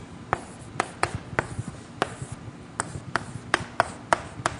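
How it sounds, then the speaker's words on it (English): Chalk or pen writing during a mathematics lecture on extremal combinatorics, a string of quick, light taps and short scratches in an uneven rhythm, with no talking. "Let me just write it down anyway."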